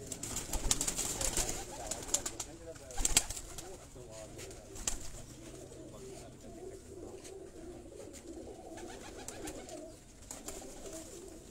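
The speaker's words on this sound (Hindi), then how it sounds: "जनाब ये मैनू मस्कत कबूतर आया।" Muscat pigeon cooing softly in repeated low bursts, faint and close, with scattered clicks and light background noise between calls.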